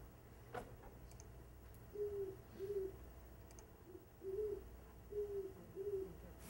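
Recorded call of a male great horned owl, from Vermont owl recordings, played back: a faint, steady series of low, soft hoots in pairs and short groups over a quiet hissy background, heard at a distance.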